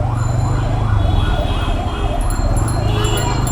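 A wailing ambulance siren rises and falls repeatedly over a steady rumble of heavy road traffic near Bashundhara, fairly close and loud throughout.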